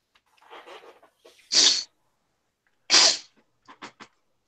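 Two sharp, loud sneezes burst out close by, a second apart, with soft breathing and murmuring before them and a few quick clicks afterward.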